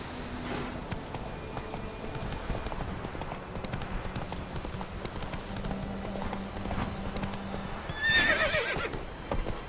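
Hoofbeats of the horse Roach clip-clopping at a run in the video game Witcher 3, steady throughout, with a loud neigh bursting in near the end.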